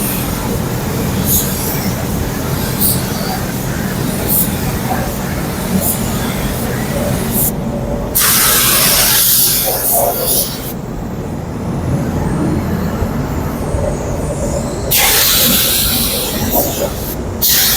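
A Harbor Freight Black Widow 2.0 spray gun sprays clear coat in a steady, loud hiss over a constant background roar, with brief bursts of stronger spraying.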